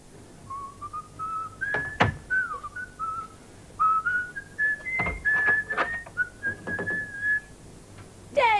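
Postman whistling a wandering melody outdoors in Sittingbourne, clear and close, with a few sharp knocks and bumps between phrases.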